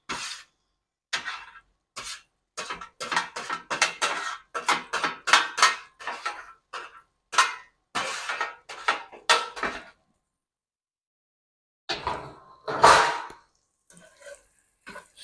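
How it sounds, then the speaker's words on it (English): Sweet potato hash being tipped and scraped into an iron skillet, with a rapid run of close, sharp clinks and clatters of utensil on metal, a pause, then a louder scraping burst and a few scattered taps. "So let's get it into the pan, the skillet."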